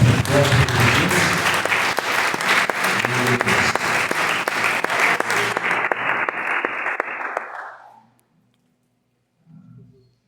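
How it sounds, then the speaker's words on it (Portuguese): A church congregation at a Friday night service claps in praise, loud dense applause with sharp accents that carries for several seconds, then fades out into near silence before a brief voice. "Pode louvar o Senhor com as palmas."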